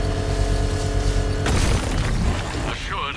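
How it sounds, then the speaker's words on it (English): A controlled explosion set off with a power winch in the Batman: Arkham Knight video game gives a loud, sudden blast that breaks through a sustained mechanical hum, followed by a decaying rumble. "I can use the power winch to trigger a controlled explosion."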